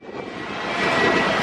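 An Aer Lingus airliner sits on the tarmac after landing during deboarding, its engines giving a loud, steady, close roar that swells slightly over a second and a half.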